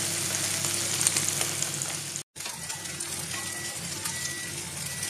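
Rainbow trout fries slowly in olive oil with a steady, close, even sizzle, cut by one brief silence partway through.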